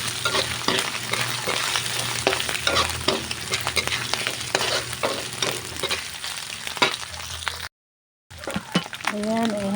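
Smoked fish and shrimp being stirred into sizzling mung bean stew with bitter melon, repeated scraping strokes of a spoon over a steady frying hiss, briefly cut off near the end, followed by a voice.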